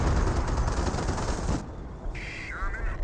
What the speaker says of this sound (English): M2 Howitzer barrage raiding on in